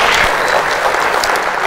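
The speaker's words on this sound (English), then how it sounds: "So Shashank, please, round of applause for Shashank." Audience in a Bangalore auditorium at a PyCon India conference talk breaks into loud, dense applause, a close, continuous wash of clapping with no speech.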